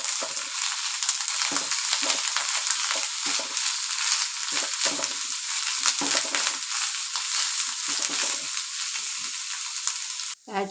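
Ginger and garlic paste sizzles steadily in a hot pan of oil, a continuous bright frying hiss broken by soft scraping stirs, running for about ten seconds with no one speaking.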